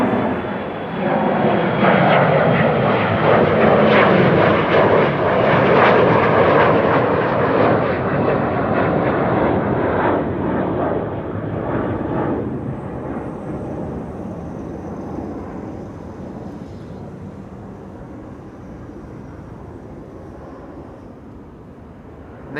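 A passenger jet departs runway 24 at Amsterdam Schiphol, its engines roaring loud and broadband at takeoff power, then slowly fading as it climbs away, with no voices over it.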